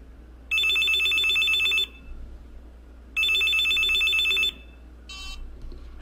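A telephone rings in two long electronic bursts separated by a pause, followed by a brief third chirp, clear over a quiet background hum, in an English-course listening exercise.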